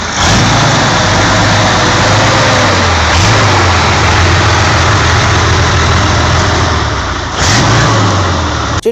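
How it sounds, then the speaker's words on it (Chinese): A huge sidecar motorcycle powered by a water-cooled Soviet T55 tank V12 diesel engine of about 38,000 cc rumbles loudly and steadily nearby, idling with a few swells in revs, no voices. "它搭载的是苏联 T55坦克的水冷 V12柴油发动机"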